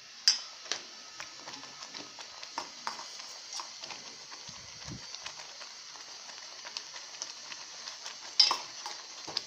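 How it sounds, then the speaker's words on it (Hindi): Oats frying gently in a pan over a low flame, giving a faint, steady crackle with scattered soft ticks and scrapes of stirring. "धीमी आंच पर पकाना चाहिए।"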